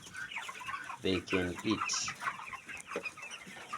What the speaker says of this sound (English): These chickens can eat.